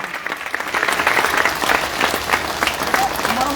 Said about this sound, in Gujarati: તો એકવાર પોતાના માટે જોરદાર તાળીઓ વધારી લો.